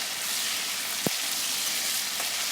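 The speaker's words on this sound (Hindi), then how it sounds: "प्याज डालकर अच्छे तरीके से इसकी बुनाई कर लेंगे। प्याज को लाइटली हम ब्राउन करेंगे।" Chopped onions sizzling and frying in ghee in a pot for degi-style chicken korma, a steady close hiss with one brief stir or clatter partway through.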